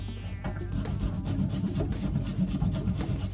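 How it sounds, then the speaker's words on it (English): Garlic is rasped on a grater into a glaze in oil: a quick, continuous scraping rub that stays close and moderately quiet for the whole stretch. "grate the garlic in it rather than cutting it into pieces, because then it's in the glaze itself"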